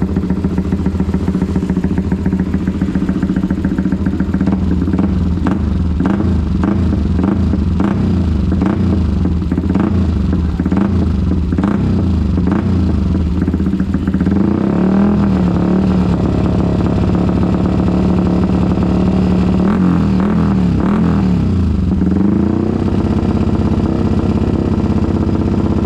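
A supermoto motorcycle idles through its loud aftermarket exhaust with the gear engaged, a steady, rumbling, throbbing beat with slight lumpy variations, very close and loud throughout.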